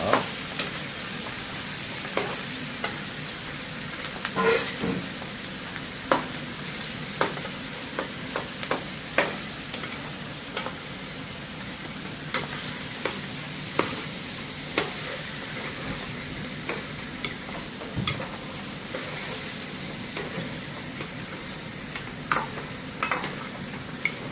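Chopped vegetables sautéing in oil for a curry give a steady soft sizzle, with frequent sharp scrapes and clacks as a utensil stirs the pan at an irregular rhythm, fairly close and without talk.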